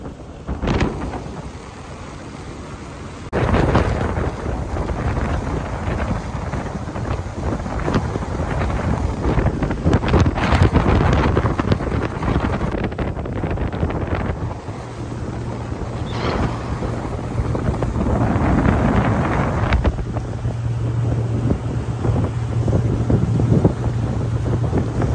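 A Boston Whaler 17 Montauk motorboat roars along at speed, its engine droning steadily while strong wind buffets the microphone throughout.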